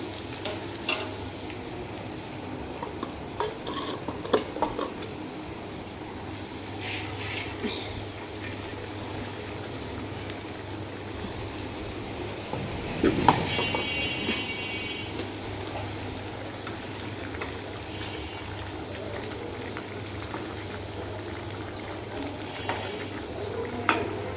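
Fish being fried for a bhuna sizzles softly and steadily in a pan, with occasional stirring clinks and one louder scrape of utensils partway through, no talking.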